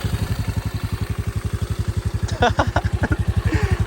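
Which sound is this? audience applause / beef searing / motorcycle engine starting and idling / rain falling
motorcycle engine starting and idling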